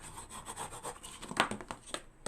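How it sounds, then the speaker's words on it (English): Tape being burnished onto a Dollar Tree cardboard box, heard as repeated close rubbing and scraping strokes in a quick uneven rhythm, with no talking. "Let's go ahead and burnish in that tape."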